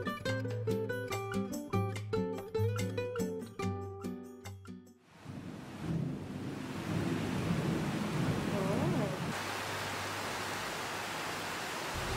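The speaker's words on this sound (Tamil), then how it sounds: "வழக்கம் போல் பெங்களூரில் எதிர்பார்த்த மழை வந்தாச்சு." Heavy rain in Bengaluru, a steady broadband wash of downpour with a low rumble of thunder swelling midway, heard alone after a stretch of plinking music fades out.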